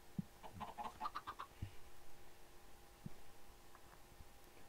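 Redstone chicken in a modded Minecraft game gives a short burst of clucks near the start, followed by quieter scattered clicks and a faint steady hum underneath.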